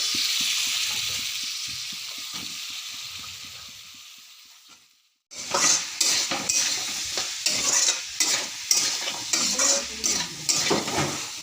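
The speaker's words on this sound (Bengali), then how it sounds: "ভালো করে নাড়াচাড়া করে নেব।" Aubergine frying in a pan for a Bengali dried fish curry with potato, stirred with a spatula: a hiss of frying, then a brief pause before a burst of close, repeated scraping and clinking strokes over steady sizzle.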